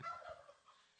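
Two turkeys at a turkey pardon ceremony give a quick, close gobble that fades within a second.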